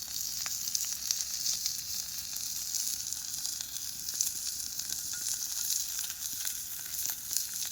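Fish frying in oil outdoors, a steady bright sizzle with crackling pops running the whole time, fairly close and with no voices.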